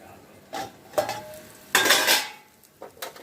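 Onions sautéing on low heat in a pan, stirred with a utensil: several distinct scraping, clinking stirs of metal against the pan, fairly close, over a faint background sizzle, with no talking.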